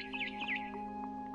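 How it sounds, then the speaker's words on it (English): A barn swallow in What Remains of Edith Finch gives a quick series of bright, high chirps and twitters close by, over a steady low game ambience, with no talking. "Then I heard chirping outside my window."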